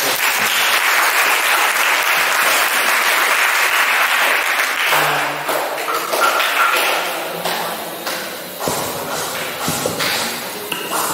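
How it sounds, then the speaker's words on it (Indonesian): A school audience at a vocational high school final project presentation claps loudly and steadily, the applause thinning into scattered claps toward the end. "Berikan aplaus kepada"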